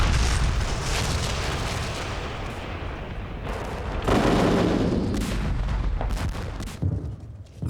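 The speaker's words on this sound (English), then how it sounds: "The evacuation was interrupted by a Soviet artillery bombardment." A Soviet artillery bombardment fills the space with continuous loud rumbling and repeated booms and blasts, dense and chaotic throughout, with a swell of heavier impacts midway.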